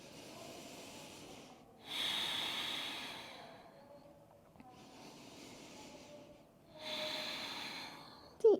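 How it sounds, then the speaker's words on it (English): Slow, deep breathing during a morning yoga flow: two long, airy inhale-exhale swells, close and fairly soft, separated by quieter pauses, with no talking. "Deep breaths."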